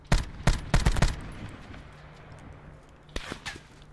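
Gunfire in the Call of Duty: Black Ops 4 video game: a quick cluster of sharp, loud shots, a lull, then two more scattered reports, with no talk.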